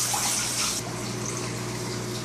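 Water splashes and runs as an aquarium sponge filter is squeezed and rinsed in a bucket of tank water, a close, continuous wash of sound that eases slightly partway through.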